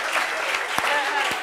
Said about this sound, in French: Applaudissements pour Ange.